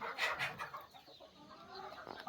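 Saurangi chickens cluck softly nearby in a few short, scattered bursts against a quiet background.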